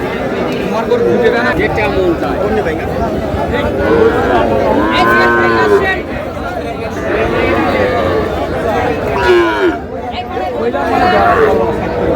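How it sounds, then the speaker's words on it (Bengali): A Sahiwal bull calf at a busy cattle market lets out repeated drawn-out moos, loud and near, with other cattle lowing and a crowd chattering behind. "শাহিওয়ালের ষাঁড়।"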